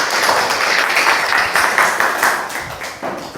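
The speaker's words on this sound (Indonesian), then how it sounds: "tepuk tangan untuk Mas Bintang ya" A classroom group at a teacher-training session gives a brief burst of applause, many hands clapping together for about three seconds before tapering off.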